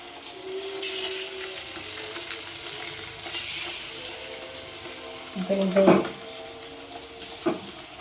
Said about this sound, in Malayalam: അയില ഇട്ടിട്ട് വറുത്താക്കിട്ടേ